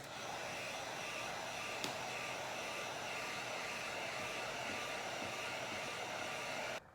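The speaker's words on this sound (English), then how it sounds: "Go ahead and run your heat gun on your tumbler just for a couple seconds, just to smooth out the epoxy around the tumbler." A heat gun blows a steady, airy whoosh while smoothing epoxy on a spinning tumbler, holding constant for several seconds before cutting off abruptly at the end, with no voices.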